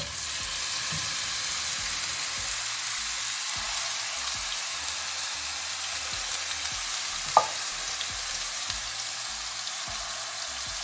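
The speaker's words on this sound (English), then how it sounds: "I'm going to add the pureed, blitzed up 3 onions." Three pureed onions sizzle and fry steadily in a pan over cumin seeds for an onion paneer curry, a dense continuous hiss with soft stirring scrapes and one brief sharper clack near the end.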